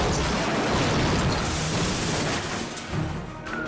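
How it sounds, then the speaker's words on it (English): A car flipping and rolling over after taking a turn too fast, a loud continuous crashing rumble with heavy impacts and tumbling noise, close, without voices. "The suspect takes a turn too fast and flips."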